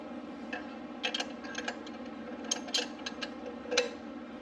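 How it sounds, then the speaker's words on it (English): A pedal is threaded counterclockwise into the left crank of a TST R 9 moped-style electric bike, giving faint, irregular metallic ticks and ratcheting clicks, close and quiet, with no voice. "On the left pedal, you will screw it in counterclockwise."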